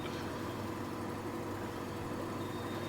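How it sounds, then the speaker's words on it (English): Small Skoda car engine in the video game The Long Drive, a steady low-pitched idle-like drone with a thin rattly, shoddy tone, continuous and fairly quiet with no voices. "It's such a shoddy sounding little engine,"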